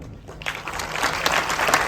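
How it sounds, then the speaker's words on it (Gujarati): Applause from an audience at a film premiere night, a dense wash of clapping that swells after a brief quieter start and stays steady and fairly loud throughout. "પ્રોડ્યુસર્સ માટે હું તાળીઓ માંગીશ"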